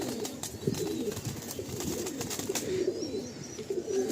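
Pigeons coo softly in a loft, a low murmuring of several birds layered over one another with brief fluttering and rustling, fairly close and continuous.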